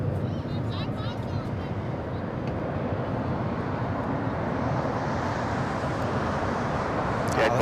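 An airliner taking off from LAX rumbles as a broad, steady roar that stays loud and constant throughout and rises slightly toward the end, heard from a distance outdoors.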